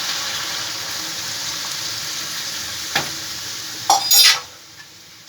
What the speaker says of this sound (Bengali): এখন আমি ঝোলের পানি দিয়ে দিচ্ছি